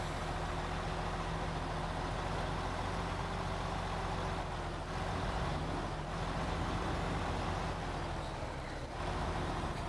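Kenworth 990 truck in the video game SnowRunner drives with a steady low engine drone and a constant hum, loud and continuous throughout with no speech.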